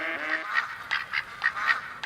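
Ducks in the hunting video game theHunter: Call of the Wild quack repeatedly in a steady series of nasal calls, close and clear with no talk over them.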